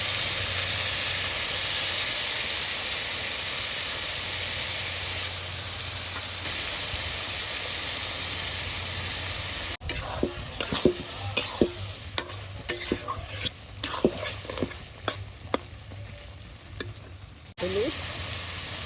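Ground cumin and chili paste frying with turmeric in a pan for a Bengali rohu fish curry, a loud steady sizzle and hiss with bursts of stirring scrapes in the second half.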